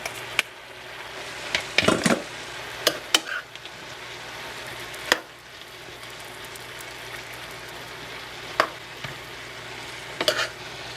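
Drained pasta tossed into a hot pan and stirred with vegetables, a steady sizzle running throughout with scattered scraping and clattering knocks of utensil against pan.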